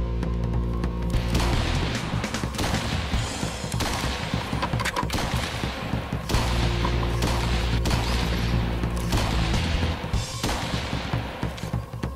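Cartoon gunshots fired at a character in a Mario and Sonic animated episode, delivered as a loud, steady, rapid volley of rattling shots that runs without pause.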